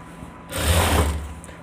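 A sewing machine stitches a pant seam in one short, close burst of fast needle rumble lasting about a second.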